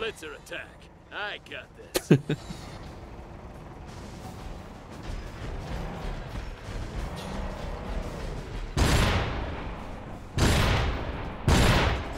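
Grenades fire in the Iron Brigade game: several sharp launch bangs early, then a rumble of explosions with three loud broadband bursts near the end, all over game background noise.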